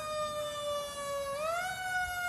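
A fire engine siren wails at the Mamaroneck firemen's parade, a steady loud tone that swoops upward in pitch partway through, with street rumble beneath.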